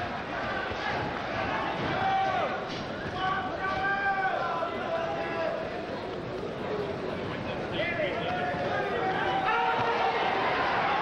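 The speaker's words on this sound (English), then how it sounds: "Crowd starting to chant Chavez" A boxing arena crowd chants Chavez during the Julio Cesar Chavez vs Sammy Fuentes fight, rhythmic rising calls over a dense hubbub of voices that runs throughout at steady volume.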